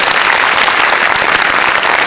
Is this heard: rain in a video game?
no